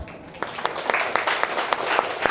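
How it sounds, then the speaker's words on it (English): A classroom gives a student a round of applause, a dense patter of clapping hands that holds steady for a couple of seconds, fairly close and filling the room. "big applause for her"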